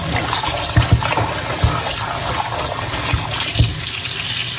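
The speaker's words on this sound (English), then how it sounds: "so let's wash these wings" Tap water runs steadily and loudly from a kitchen faucet while raw chicken wings are washed for garlic wings, with a few soft knocks and splashes over the continuous gush and no talking.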